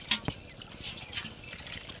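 Water running from a flow in a field while dishes are washed outdoors, a short soft trickle and splash with faint clinks.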